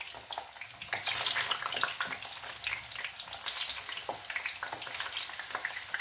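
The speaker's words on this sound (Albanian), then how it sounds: "Ja diganin e kam vënë këtu me vaj. Dhe do t'i hedhim një nga një t'i skuqim." Lamb brains fry in oil in a pan, giving a steady crackling sizzle with bright spitting pops, close and fairly quiet, with no voices.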